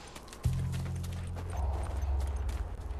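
A horse's hooves clip-clop steadily in The Last of Us Remastered on PS4. The sound starts abruptly and continues as a close, rhythmic trot over a low game background, with no talking.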